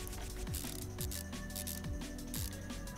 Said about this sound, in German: So, dann können wir auch den Turbolader wieder dran schrauben.